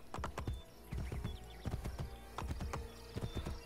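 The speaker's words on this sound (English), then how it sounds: "Oh, I really wish we had gallop in this game." Horse hooves clip-clop at a steady riding pace in Assassin's Creed Brotherhood, with clusters of hoof strikes in a repeating rhythm, fairly close and moderately loud, and no voices over them.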